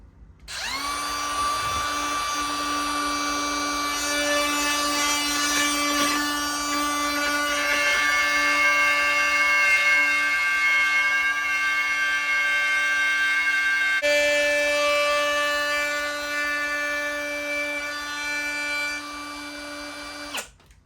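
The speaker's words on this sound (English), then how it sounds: "This is the fixed base router, which is not ideal for this, so I've basically got to plunge it down" Fixed-base wood router plunging into timber, a loud sustained high whine with strong tonal harmonics running steadily for about twenty seconds, its pitch dipping slightly under load, no talk.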